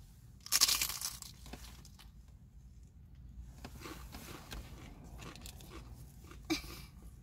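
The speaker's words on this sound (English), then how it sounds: "the first bite is just going to be a crunch bite" A crunchy taco shell is bitten with one sharp, close crunch, followed by quieter crackles and chewing in an otherwise quiet room.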